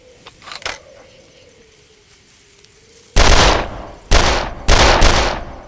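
Rifle fire in the first-person shooter Darkest of Days: three loud, close shots crack out in quick succession after a quieter stretch with faint distant clatter.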